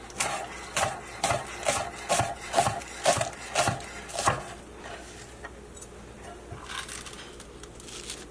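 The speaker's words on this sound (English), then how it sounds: "I'm just going to quickly cut up some spinach leaves" A knife chops through stacked, rolled spinach leaves in a steady run of about ten close, crisp cuts, then the chopping stops and only faint quiet rustling remains.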